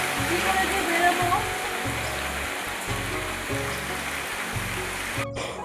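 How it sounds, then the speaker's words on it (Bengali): Rain falls steadily in a continuous even wash of sound, with a low rhythmic hum underneath and no voices. "এখন বেরোবো আর দেখো বৃষ্টি পড়ছে"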